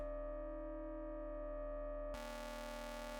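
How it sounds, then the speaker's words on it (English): An Endorphin.es Furthrrrr Generator synth plays a steady modulated sine tone, smooth and quiet, before switching abruptly to a brighter, buzzier timbre for the final second. "sine wave"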